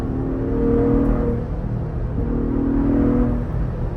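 A Ford Bronco Raptor engine accelerating hard from inside the cabin, a loud steady roar that rises in pitch through two gear pulls with a brief dip for the shift between them.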